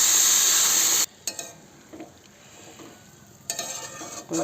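Spices fry in a pan for a fish curry, opening with a loud bright sizzle that cuts off, then quieter stirring scrapes and light utensil clinks, with the sizzle rising again near the end.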